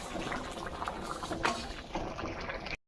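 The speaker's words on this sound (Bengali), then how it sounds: "রুমা গ্যাসে বসিয়ে দিছে, ডাউল জাল দিতেছে" Dal (lentils) simmering in a pot on a gas stove in a home kitchen, a close, quiet bubbling and soft patter continuing steadily before cutting off.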